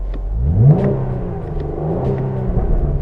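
A 2024 Chevy Camaro 1LT exhaust in Sport mode blips and revs a few times, a deep burbling rumble with short rising surges and faint pops, nearby.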